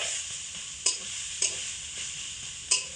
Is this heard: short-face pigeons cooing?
no